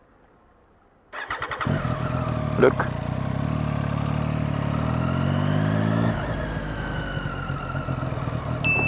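A Triumph Street Triple motorcycle engine starts and idles up close, a steady loud rumble with a brief rev, fading slightly near the end, while a voice speaks briefly over it.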